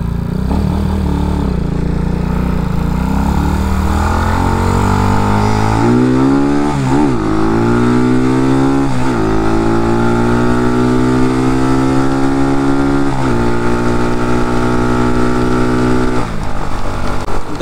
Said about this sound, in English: Because this bike should definitely do, I would say it might do 70 if you can get the higher RPMs up there.